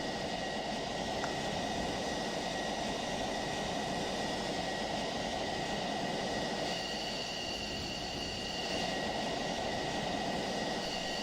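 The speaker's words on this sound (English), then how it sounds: "Is this the last plane landing now?" Steady broadband jet engine roar from a fighter aircraft landing on a runway, continuous and fairly loud throughout with no talking.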